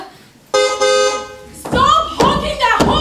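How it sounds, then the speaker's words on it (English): Car horn honking from outside a house during a family gathering, two long blasts followed by shorter toots, fairly loud, with people talking over the second half. "Stop honking that horn, Mom!"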